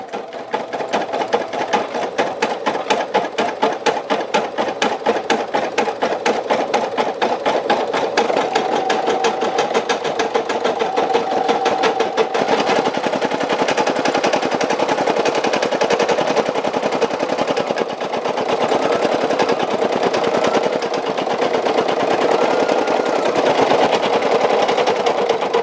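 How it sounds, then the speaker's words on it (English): A small home embroidery machine stitches a custom fill-in design, its needle hammering in a fast, even rapid-fire rhythm that runs loud and continuous throughout, with slight shifts in tone partway through. "this is all from the small home embroidery machine"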